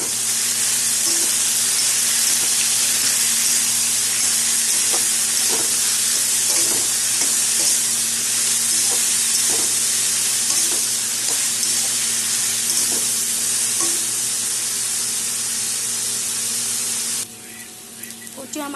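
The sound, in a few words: taro and potato frying in a pan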